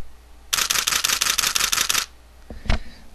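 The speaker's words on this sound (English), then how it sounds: "So here is continuous high at 6 frames per second." A Nikon D300 camera fires its shutter in continuous high mode at 6 frames per second, producing a rapid, even burst of about ten mechanical clacks over roughly one and a half seconds, then a single softer thump.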